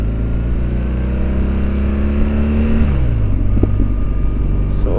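A 2007 BMW 1200GS motorcycle is ridden at close range, its engine note holding steady and then dropping in pitch as the rider shifts, over continuous wind and road roar.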